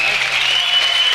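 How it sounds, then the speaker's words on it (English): Audience at a Larken Rose versus Lauren Southern borders debate applauds the two panelists, a brief, dense and steady wash of clapping filling the room. "A round of applause for both of our panelists here."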